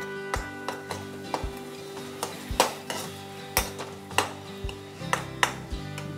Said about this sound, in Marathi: आता फोडणीतच टॉमॅटोची प्युरी घालून घेऊया आणि परत एकदा परतून घेऊया